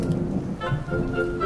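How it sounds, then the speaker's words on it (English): Rain begins to fall in a cartoon scene, a soft steady patter of drops rising out of the background with a faint low rumble beneath. "Maybe we should go inside before it starts to rain too much."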